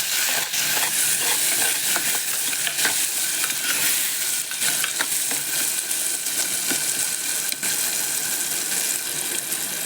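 Tomatoes sautéing in a pan with turmeric: loud, dense hissing sizzle with stirring scrapes, constant throughout and close, no voices.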